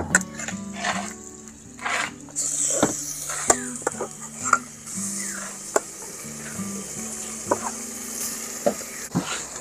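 Chicken sizzles and fries in a pan, steady crackling hiss with sharp clanks and scrapes of stirring, close and continuous throughout.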